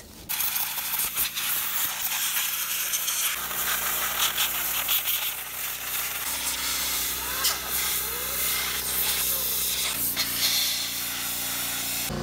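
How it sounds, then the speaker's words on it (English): Compressed air blasts into the blower of an Osburn 2400 wood-burning stove insert, giving a loud, sustained hiss with rattling from the fan mechanism, the pitch of the underlying whir stepping down several times as the airflow shifts. "Got an air compressor, let's hit it."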